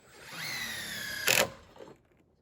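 A power drill drives screws into roof framing during insulation work on an off-grid cabin, a steady whine that rises in pitch, then a short loud burst as the screw seats, and the motor winds down.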